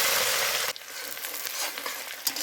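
Grated onion hitting hot mustard oil in a kadai, tempered with whole cumin and dried chillies, bursts into a loud, steady sizzle that drops sharply after a moment, then settles into a softer, crackling fry.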